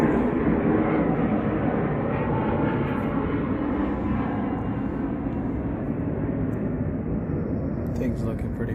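A power polisher buffs the headlights of an Acura CL Type-S, giving a loud, steady motor drone that runs unbroken and close throughout.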